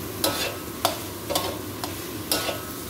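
Utensil scraping and clacking against a frying pan as green beans and onions are stirred, several sharp strokes over a steady sizzle, close by.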